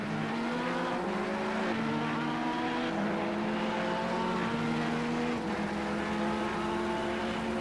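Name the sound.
race cars driving through a chicane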